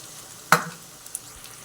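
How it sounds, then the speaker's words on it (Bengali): A quick burst of sizzling and a spoon scrape come from capsicum and onion frying in a pan as spice paste is added, followed by quieter hissing and a couple of faint clicks. "এবার ক্যাপসিকামগুলো আর পেঁয়াজগুলো হালকা হালকা ভাজা হয়ে গেছে এবার হচ্ছে আমি মশলাটা দিয়ে দেবো"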